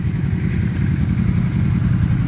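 A Royal Enfield Hunter 350, a small-bore motorcycle, runs with a steady, loud, low engine rumble that holds throughout without any talk.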